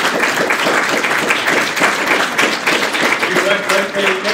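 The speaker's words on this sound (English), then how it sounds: "We all give them just a huge round of applause" An audience at a history lecture applauding in a steady, dense wash of clapping that holds for several seconds, with a voice briefly audible near the end.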